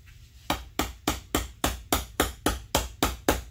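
A new wheel bearing is hammered into its housing by hand, off the bench: about a dozen sharp metallic blows land in an even, steady rhythm, loud and close, with no talking.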